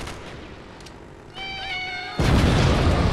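A cat meows in the first-person puzzle game Viewfinder, one clear, tonal mew midway that is followed by a sudden loud burst of broadband noise.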